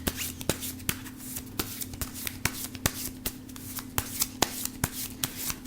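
Tarot cards shuffled from a deck at close range, a steady run of soft riffling slaps and quick card snaps repeating every half second or so, with a faint low hum underneath.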